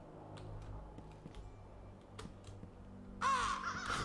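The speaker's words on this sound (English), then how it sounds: "Goddamn birds." Crows in the video game The Beast Inside caw over a steady ambient game backdrop, with a few scattered calls followed by a louder, harsher burst of cawing near the end.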